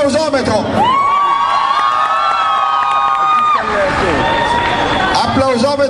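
A crowd of children and adults in a singing-contest audience shout and cheer loudly for an applause-meter vote, a sustained high whooping roar that swells, dips briefly, then rises again.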